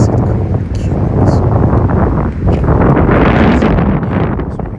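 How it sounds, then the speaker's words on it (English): Wind buffets the microphone outdoors at a building site in Barbados, a loud, close rumble that swells and dips throughout, briefly easing midway. "Sorry, can't hear because of the wind."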